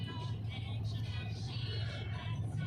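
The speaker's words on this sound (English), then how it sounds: "sitting here still, trapped in traffic?" Low rumble of stopped city traffic with cars and buses idling and creeping around a vehicle in Cebu City, a faint, steady engine drone and hum without any clear talk.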